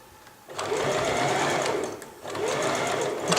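A sewing machine stitches fabric for a tracksuit in two loud, steady bursts of rapid mechanical whirring, each lasting over a second, with a short pause between them.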